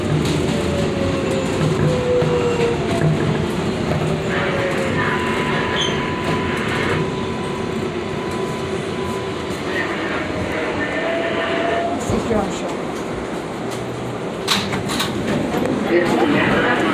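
A New York 7 local subway train rides between stations, a continuous loud rumble of wheels on track with faint squeals and clatter throughout, heard from inside the car.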